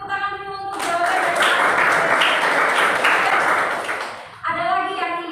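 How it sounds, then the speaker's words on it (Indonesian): A classroom of students bursts into applause for a classmate's answer, a dense burst of clapping lasting about four seconds, with a teacher's voice just before and after it. "Kasih tepuk tangan dulu untuk jawabannya."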